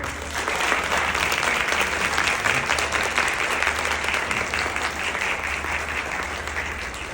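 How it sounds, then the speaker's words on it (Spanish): Conference audience breaks into sustained, dense applause, loud and even for several seconds with a faint low hum underneath. "Un fuerte aplauso."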